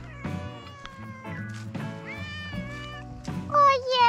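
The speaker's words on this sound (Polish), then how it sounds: "Taki kochany kotek." A cat meows repeatedly at close range, loud drawn-out cries with a harsher caterwaul near the end, outdoors at a rope park among trees, with faint voices nearby.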